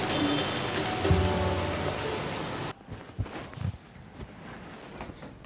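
Steady rain falls as a dense hiss for the first half, then drops away to sparse, close drips and a few soft thuds, with no one talking.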